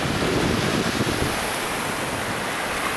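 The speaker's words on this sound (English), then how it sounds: "then you get the sound of the waves, and that is really cool too" Steady broadband wash of lake waves breaking on a shore at Mackinac Island, continuous and fairly loud with a rushing, hissy texture and no voices.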